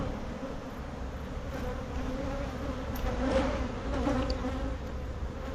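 A dense, steady hum of many honey bees fills a hive box low on honey or nectar, a close continuous buzz with slight swells, heard alone without speech.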